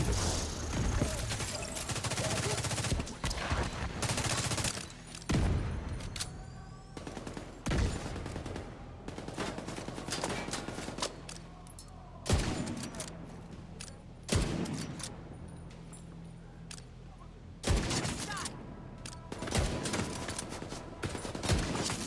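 Heavy gunfire in The Division 2, with repeated loud bursts of automatic fire and single shots coming in irregular volleys over about twenty seconds, separated by short quieter gaps.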